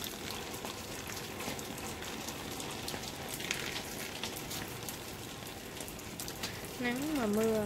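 Rain falls during sunshine at a Dong Thap plant nursery, a steady pattering hiss on surfaces with a person starting to speak over it near the end.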